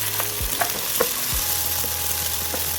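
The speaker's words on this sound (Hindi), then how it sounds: "फ्राई करते ही हम इसमें प्याज शामिल कर लेंगे" Chopped onions fry with garlic in a pan for a chicken and capsicum dish, giving a steady loud sizzle with a few soft clinks and stirring knocks.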